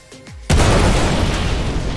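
A Saiswan missile strikes a Terrapin ship in a space combat video game, giving a sudden loud boom after a short descending whoosh and then a sustained roaring rumble.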